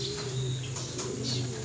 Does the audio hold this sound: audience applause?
no